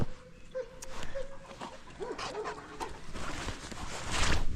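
A Great Pyrenees puppy yips, whimpers and pants in short bursts at close range, with a few higher whiny cries scattered through the clip.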